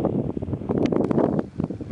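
Wind gusting across the microphone on a mountain backpacking trail, a close, uneven rumbling buffet that rises and falls over a couple of seconds.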